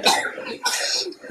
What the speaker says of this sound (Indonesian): Ya batuk batuk ya.